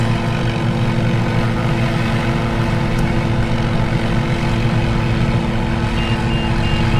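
A steady electronic alarm tone holds on inside a Shrike 530f helicopter cockpit in Microsoft Flight Simulator after the engine is shut down, over a constant low mechanical drone, loud and unbroken throughout.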